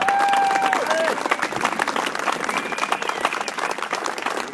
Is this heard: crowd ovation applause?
yes